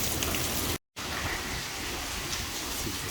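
Steady, dense rain and wind from Hurricane Hilary roar as loud, unbroken hiss outside an apartment, with a brief cut in the sound.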